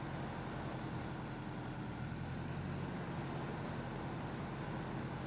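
A tractor engine drones in the video game Ghost Recon Wildlands, a steady low rumble that holds at one level throughout with no other sounds.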